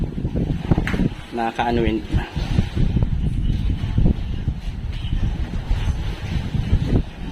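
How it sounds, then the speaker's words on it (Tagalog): Strong wind buffets the microphone with a steady roar over the rumble of a moving boat off Palawan, while a person speaks briefly. "Lakas ng hangin."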